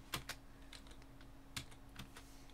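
Computer keyboard keys clacking while an old PC racing game is played, a few sharp, close keystrokes scattered at an uneven pace over a steady low hum, with no voices.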